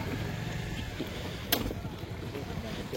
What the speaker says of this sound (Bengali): So here is the thing, our journey by speedboat